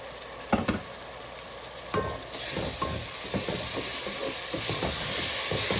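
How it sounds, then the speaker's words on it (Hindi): Tomato paste hitting a hot pan of cooked garlic and ginger for chicken aloo salan, a loud steady sizzle and hiss with a few stirring scrapes, close up and continuous. "अब मैं टमाटर का पेस्ट डाल रही हूँ"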